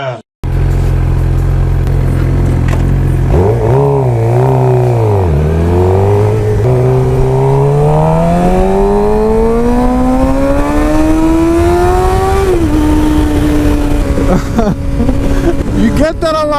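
Suzuki GSX-R 600 motorcycle with a slip-on exhaust, starting at idle and then pulling away and revving up steadily through the gears in one long, loud, close rising engine note.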